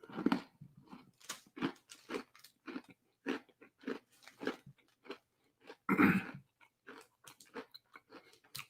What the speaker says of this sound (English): It's a crunchy cookie.